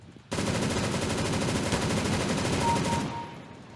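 Rapid automatic gunfire from a video game played on an ATI Radeon HD 2600 XT, a dense unbroken burst of shots lasting about three seconds before fading out.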